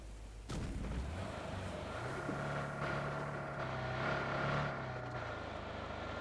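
Gunfire and vehicle rumble in the PUBG Mobile battle royale game, a steady loud drone with a sharp shot near the start and repeated bursts through the mix.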